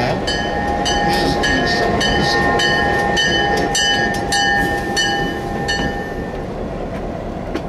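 A GM SD7 diesel locomotive rolls past on a station track, a loud, close rumble of engine and wheels with steady clatter and sustained tonal squeal, easing slightly toward the end.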